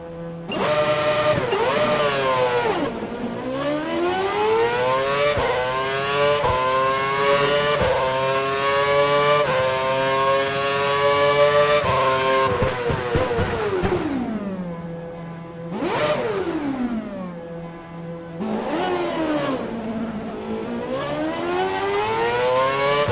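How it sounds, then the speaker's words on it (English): An F1 race car in the F1 2012 video game screams loudly through repeated upshifts, its engine pitch climbing and dropping in sweeping waves, then dipping as it slows before accelerating hard again. "Head down the track accelerating past 160 miles per hour, then brake so that you come to a complete stop in the designated area."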